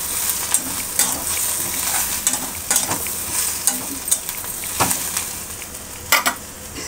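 Dried coconut and onion are fried and stirred in a pan for crab masala. A constant close sizzle runs under repeated scraping stirs and occasional clinks of a spoon against the pan.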